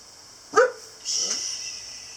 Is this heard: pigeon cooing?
no